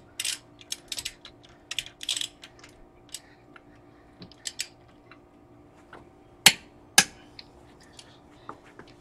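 Hand tool snugging rear brake bolts on a 2014 Subaru BRZ: sparse ratcheting clicks and light mechanical ticks, then two sharp metallic clacks, close and alone with no talking.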